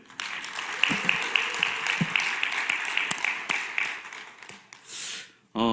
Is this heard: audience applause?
yes